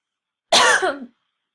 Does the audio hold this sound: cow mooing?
no